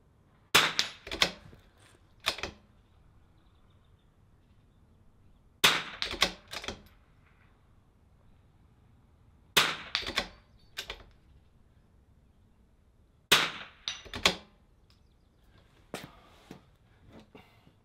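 Rifle shots from an NRL22 match stage ring out at steel targets in four separated bursts of sharp cracks, each crack followed by a quick metallic ping, loud and close with quiet gaps between.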